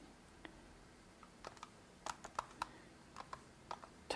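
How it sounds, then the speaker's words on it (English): Slow typing on a computer keyboard at a Hackintosh workstation: scattered soft key clicks, sometimes in small bursts with pauses between, quiet and close, with no talk. "the reason I'm typing so slow, I'm using one of those"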